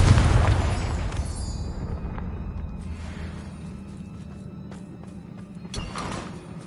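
A Confringo blasting spell goes off in Hogwarts Legacy, a loud low booming burst at the start that rumbles and decays over several seconds, with a smaller thud near the end.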